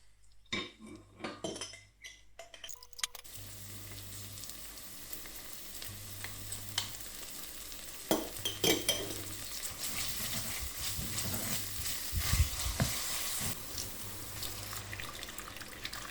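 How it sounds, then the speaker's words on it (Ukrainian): A few clinks and clatters of a pan, then onion and garlic sizzle steadily in hot oil, with occasional stirring scrapes over the constant crackle. "На пательні з додаванням олії обсмажуємо нашу цибульку та чесничок до золотистого кольору."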